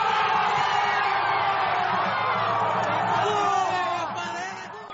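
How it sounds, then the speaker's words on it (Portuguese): A large stadium crowd roars and chants continuously after a Ponte Preta goal, a dense, loud wall of massed voices that holds steady and then begins to fade toward the end. "A torcida vai ao intervalo comemorando a vantagem parcial."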